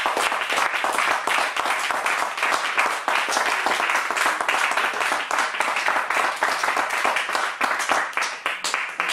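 A church congregation applauds the Lord in steady, dense clapping that fills the whole stretch, loud and close, with a few voices mixed faintly into the noise.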